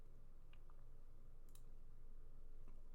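Computer keyboard and mouse in use, a few faint, sparse clicks and key taps over a steady low background hum.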